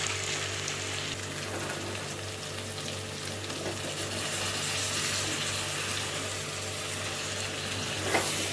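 Okra curry frying in a pan as curd goes in, with a steady, moderately loud sizzle and hiss throughout and no voices.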